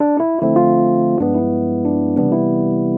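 A piano plays a 2-5-1 progression in C, three sustained chords, each struck cleanly and left ringing, moving smoothly from one to the next.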